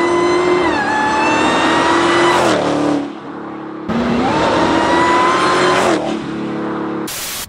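A supercharged 810-horsepower Dodge Challenger revs hard twice, each rising pull ending in a drop and a brief release hiss, with a high supercharger whine.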